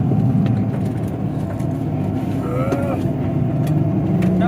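A motorbike engine roars steadily, loud and close, as the bike strains stuck on a steep hill road in hilly terrain near Cox's Bazar, with faint background voices.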